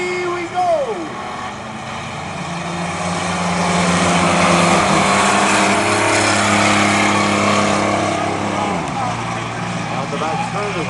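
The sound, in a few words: race trucks in a 10-lap qualifier at a speedway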